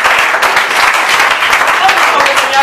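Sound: applause in church

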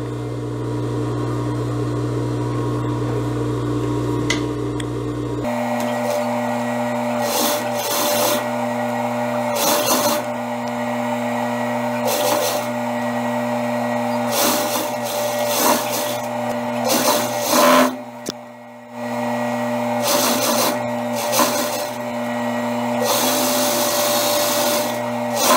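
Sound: sewing machine sewing seams of a sleeve

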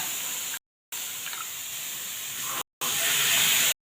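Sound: green peas roasting on hot griddle

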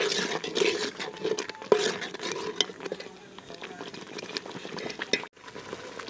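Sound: masala frying in oil

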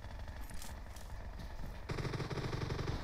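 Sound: gunfire in the video game PUBG Mobile

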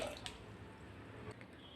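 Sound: water poured from a glass into a pressure cooker

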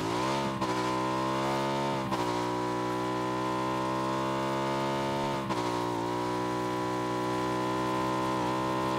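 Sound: buggy vehicle engine in PUBG video game

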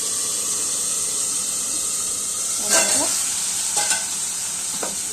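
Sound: dal added to sizzling onion garlic tadka

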